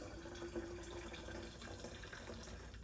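Coffee pours from the carafe of a Capresso ST300 coffee maker in a steady, close liquid stream with a faint trickling tone, continuous throughout with no talking.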